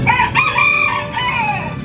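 Red junglefowl, wild chickens, give a loud, close crow with a strained, wavering call over clucking sounds, filling the short moment without any talking.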